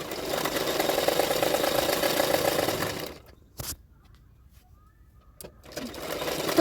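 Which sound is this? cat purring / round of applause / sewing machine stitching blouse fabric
sewing machine stitching blouse fabric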